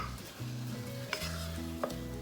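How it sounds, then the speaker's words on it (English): Stiff choux pastry dough being turned over in a pan on the stove with a spoon, heard as soft scraping and stirring with a faint sizzle and a couple of small knocks against the pan. Quiet and close, with no talking. "I'm going to turn it over a couple more times, just making sure I didn't have any lumps."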